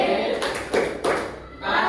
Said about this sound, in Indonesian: kita kasih lagi tepuk keren untuk kelompok 1